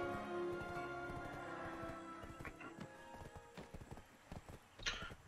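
Horse hooves clip-clopping while riding in Black Desert Online, a steady trotting rhythm that grows more uneven and choppy toward the end, with tonal game music underneath and no talk.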